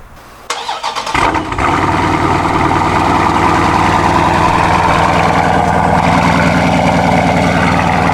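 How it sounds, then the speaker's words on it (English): A car engine cranks briefly, catches with a roar, then settles into a loud, steady idle. "You do a cold start."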